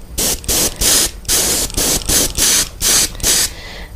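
A spray gun shoots glitter flake paint in eight loud, evenly spaced hissing bursts, each about a third of a second with brief gaps, the last tailing off softer.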